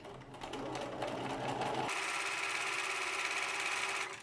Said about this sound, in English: I've just overlocked my band and now I'm going to top stitch it.